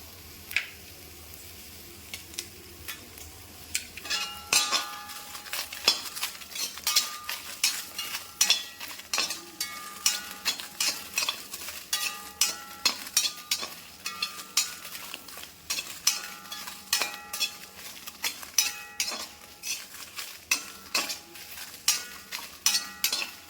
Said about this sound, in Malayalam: അതൊന്ന് വറക്കാം. നമുക്കിനി ഇതിലേക്ക് കറിവേപ്പിലയും കൂടി ഒരു തണ്ടം ഇട്ട് കൊടുക്കാം.